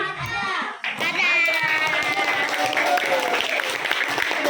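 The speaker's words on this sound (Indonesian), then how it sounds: "Tepuk tangan buat si" A class of fourth-grade children at an elementary school applauds together, a steady dense patter of clapping that follows a brief adult voice at the start and carries on loudly to the end.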